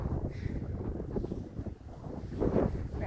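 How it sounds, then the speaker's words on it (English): Wind buffets the microphone with low rumbling gusts that swell toward the end, steady and close, with no voices. "when it's windy, you can really hear the wind too."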